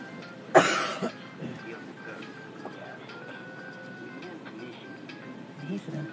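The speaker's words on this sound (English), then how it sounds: "My mom coughing." A woman gives a single sharp, harsh cough near the start, followed by quieter room noise and faint, indistinct background sounds.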